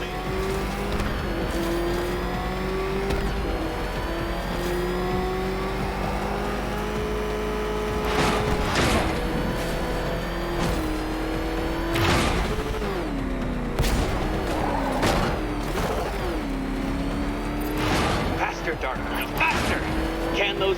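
A car engine revs and roars continuously in the Arkham Knight video game, with shifting pitch, tire squeals and bursts of gunfire-like impacts, loud and sustained while a voice talks over it.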